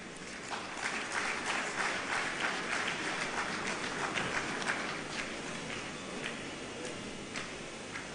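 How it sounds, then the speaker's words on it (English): An audience claps for the Nigerian President at the 2024 Anambra economic summit, with steady crowd applause filling the hall at a moderate level throughout, full of dense overlapping claps and no voices rising above it. "I think our President deserves a bigger round of applause"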